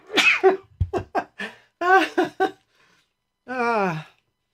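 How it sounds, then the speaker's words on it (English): A close, loud sneeze after a few gasping breaths and short vocal bursts, then a drawn-out voiced exhale. "going to sneeze"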